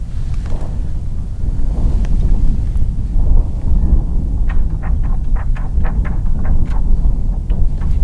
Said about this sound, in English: Wind's starting to blow.